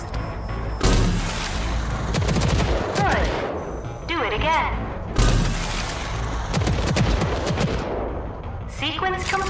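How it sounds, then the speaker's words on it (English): A smart rocket launcher in Rage 2 fires bursts of small homing rockets, loud booming volleys with whooshing streaks and explosions, two main barrages separated by a short lull and a flurry of smaller hits at the end. "the smart rocket launcher can lock onto a target and fire multiple small homing rockets"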